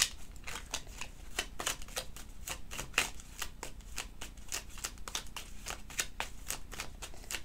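Tarot cards being shuffled by hand, a fast steady run of crisp riffling flicks and taps, close and continuous without talk.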